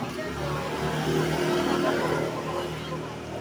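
Cars pass on a street in a town centre near a university campus, a steady broad rumble of traffic swelling and fading, heard close and fairly loud with people talking over it.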